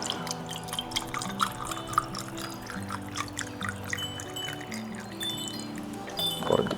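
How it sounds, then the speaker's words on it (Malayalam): Orange juice is poured into a glass over ice, a soft trickling pour with light drips and faint clinks of ice, close and quiet with no talking. "ഇനി അതിലേക്ക് ഓറഞ്ച് ജ്യൂസ് ഒഴിക്കുക"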